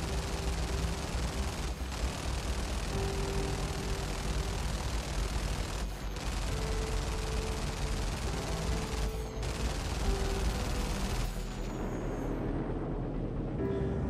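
Spaceship guns fire in the Star Citizen video game, a dense continuous barrage of rapid shots that runs steadily, loud and close, then cuts off near the end as the guns overheat.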